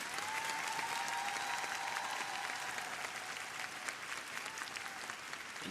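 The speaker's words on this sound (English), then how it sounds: "The rest of the team leading the applause." Arena crowd applauding after a women's short program at the ISU World Team Trophy figure skating event in Tokyo, a steady, distant wash of clapping with no break, and a commentator's voice faintly present.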